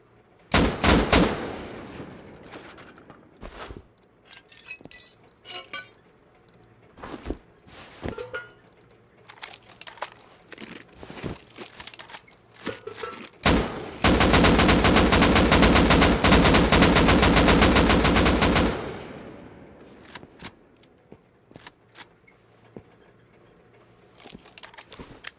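Gunfire in the video game Rust during a raid: scattered single shots and bursts, then a sustained loud automatic barrage lasting several seconds, followed by more sporadic shots.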